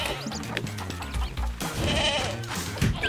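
Goat bleating in the Moving Out 2 game, short nasal cries over busy game sounds and music, fairly close and moderately loud.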